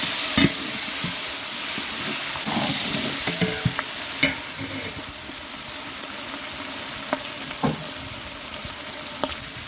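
Onions and tomatoes fry and sizzle in a large pot for Dindigul chicken biryani, with a continuous hiss and occasional scraping clinks of a stirring ladle against the metal.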